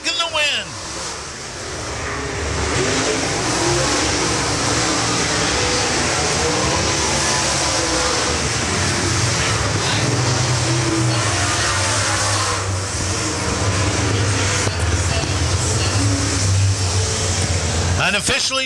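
Dirt late model race cars roar around Springfield Raceway during a MARS Dirt Car Series heat race, engines loud and continuous with rising revs, while an announcer talks over the noise.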